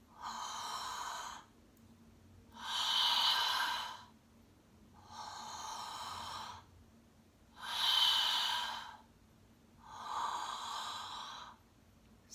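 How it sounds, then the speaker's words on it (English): Ujjayi breathing drawn in and out through the nose, five slow, even, audibly rushing breaths, each lasting about two seconds and separated by short quiet pauses, close and clear with no talking. "So when you do the Ujjayi breath, you're actually doing the breath in and out of the nose."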